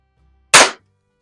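A single sharp, loud crack of a Webley Nemesis SSP air pistol fired in a garage, a brief close report with a short decay and otherwise near silence.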